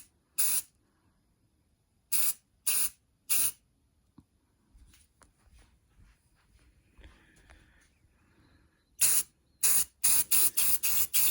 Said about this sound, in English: I'm going to try to paint the top and the back and the bottom with gold spray paint.